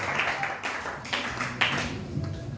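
A church congregation claps together in quick, uneven rhythm to acclaim the Lord, with many hands making a loud, dense patter and some voices mixed in.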